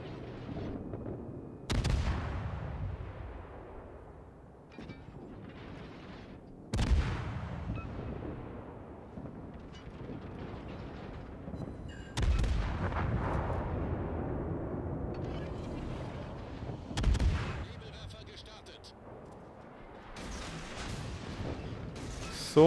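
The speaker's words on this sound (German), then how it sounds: "Also er denkt gar nicht dran, hier weniger zu schießen" Heavy naval gun salvos from World of Warships battle gameplay, with several loud booming blasts spaced a few seconds apart, each followed by a long rumbling decay over continuous low battle noise.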